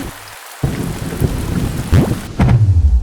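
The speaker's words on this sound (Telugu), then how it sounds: "వర్షం పడుతుంది" Rain pours steadily with a low rumble of thunder underneath, heavy and close, with no voices.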